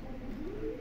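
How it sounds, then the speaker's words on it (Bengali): A pair of sobji racer pigeons coo close by in a soft, continuous low warble that rises slightly in pitch, with no talk. "খুব ভয়ঙ্কর খোমার একটা জোড়া সবজি রেসার কবুতর"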